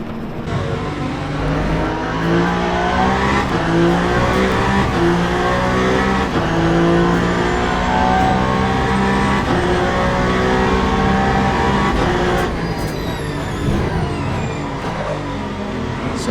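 Loud, sustained engine roar from GT3 race cars, including a 2025 Mercedes GT3, in the Le Mans Ultimate sim during the 8 Hours of Bahrain, with rising and falling revs and gear shifts over a continuous full-field drone.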